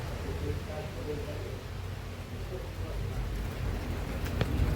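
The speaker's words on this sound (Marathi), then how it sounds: "थोडा पाऊस चालू झाला आहे." Steady rain hisses throughout at a moderate level, with a low background rumble and a sharp tap near the end; a voice is faintly present.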